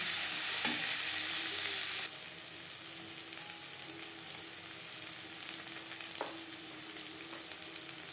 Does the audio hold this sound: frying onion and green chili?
yes